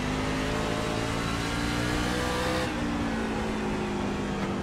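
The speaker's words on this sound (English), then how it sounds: "Driving the shit out of this truck." Racing truck engine in the iRacing sim on the Five Flags Speedway short track, droning steadily and loud with sustained harmonic revving throughout, no talking.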